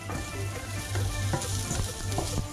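Soup ingredients for smoked khao tom cooking down in a pot with a steady, close sizzle and bubbling crackle running throughout, no voices.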